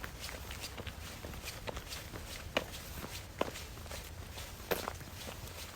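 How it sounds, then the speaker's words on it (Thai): Footsteps walking outdoors on a morning exercise walk at Khao Krachiao, a steady rhythm of close, fairly soft steps with a few sharper scuffs over a low background hum. "มาเดินออกกำลังกาย"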